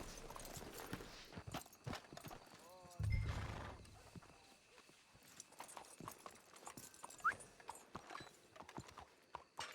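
Horse hooves clip-clop steadily in Red Dead Redemption 2, a continuous walking rhythm of close, crisp hoof strikes, with a short whinny-like sound and some faint background activity.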